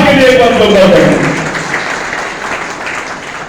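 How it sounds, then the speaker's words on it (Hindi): An audience at a state-level fisheries cooperative society conference claps loudly at first, then the applause fades, while a voice speaks over it. "आदरणीय होरीलाल के लिए भी एक बार ताली बजाओ भैया"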